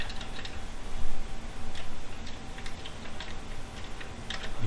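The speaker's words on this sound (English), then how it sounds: "So I'm just gonna go through a bunch of these keys." Keys being pressed one after another on a Commodore 64 keyboard during an amateur black-screen repair, a quick run of close, clicky taps with uneven rhythm and no talking.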